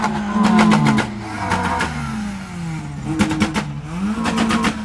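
Several Honda cars rev repeatedly at a large Honda gathering at a racing circuit in Europe, the engine pitch rising and falling in quick bursts, close and loud.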